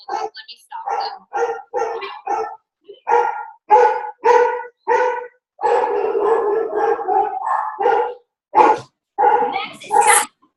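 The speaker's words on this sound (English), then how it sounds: "now my dogs are going" Several dogs bark near and loud in quick repeated bursts, sharp woofs and yips coming almost continuously with a brief longer run in the middle, with a person speaking between them.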